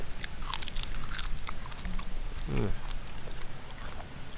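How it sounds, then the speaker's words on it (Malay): Crispy fried onion and fried chicken are bitten and chewed up close, with a few sharp, brittle crunches over a quiet, breezy background. "Yang bawang yang rangup ni"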